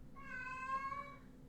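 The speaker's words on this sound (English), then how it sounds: "Can you please stop meowing at me?" A cat meows once in a long, drawn-out call with clear rising-and-falling harmonics, close and fairly loud over a low background hum.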